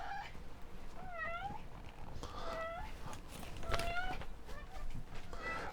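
A house cat meows repeatedly, several rising-and-falling calls spaced a second or so apart, fairly close and moderately loud over a quiet room background.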